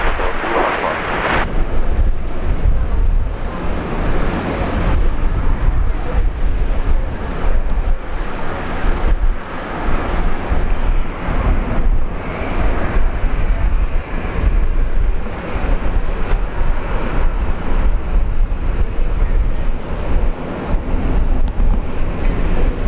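An airliner on final approach and landing on a runway at Brisbane International Airport, a loud, continuous engine roar that carries through the whole stretch without letup, with no words spoken.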